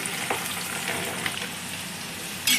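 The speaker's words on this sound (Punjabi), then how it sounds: "ਇਹਨਾਂ ਨੂੰ ਆਪਾਂ ਨੇ ਅਲਟ ਪਲਟ ਕਰਦੇ ਹੋਏ ਜਿਵੇਂ ਆਪਾਂ ਜੀਮੀਕੰਦ ਫਰਾਈ ਕਰਦੇ ਆ ਉਦਾਂ ਆਪਾਂ ਇਹਨਾਂ ਨੂੰ ਫਰਾਈ ਕਰ ਲੈਣਾ ਹੈ ਜੀ" Taro (arbi) pieces frying in hot oil in a pan for a dhaba-style spiced dish, with a steady close sizzle and faint scraping as they are turned, ending in a brief louder burst.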